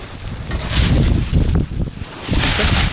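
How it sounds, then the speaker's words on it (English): Gusty outdoor wind on a cold day buffets a microphone in a car parts yard, rumbling in uneven surges for three seconds with no voices. "It is windy today too"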